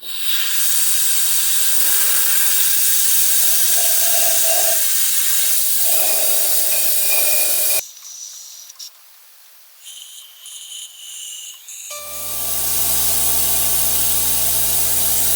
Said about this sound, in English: It's a brake bleeder, but it also will suck fluid, so you can drain your master cylinder